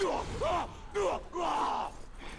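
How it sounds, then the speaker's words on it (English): Enemy orcs in the video game Middle-earth: Shadow of Mordor let out a few loud, wavering screams and yells in quick succession, close and raw, with short gaps between them. "What's with that screaming you guys are doing?"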